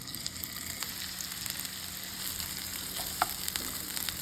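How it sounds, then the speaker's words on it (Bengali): Skewered creamy chicken kebabs fry in ghee with a steady, close sizzle and soft crackling pops scattered through the few seconds. "এখন আমি এগুলোকে ঘিয়ের মধ্যে ভেজে নেব"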